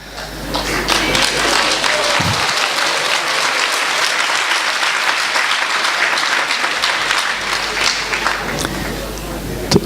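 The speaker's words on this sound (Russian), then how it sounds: "Подождите, не хлопайте пока." A lecture audience applauds in a dense, sustained burst of clapping that fills the room, loud and continuous, with a speaker's voice faintly underneath.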